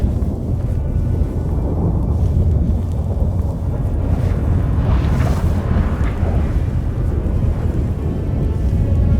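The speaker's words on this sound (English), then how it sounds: "That a storm?" A storm hits at sea in The Witcher 3: Wild Hunt, a dense, loud, continuous roar of wind and crashing water with deep rumbling underneath and no talk.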